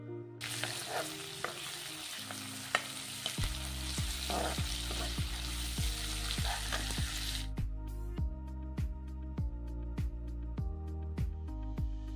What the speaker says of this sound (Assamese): গৰমাই লোৱাৰ পাছত ইয়াত মই পিঁয়াজখিনি দি অলপ ভাজি থাকিম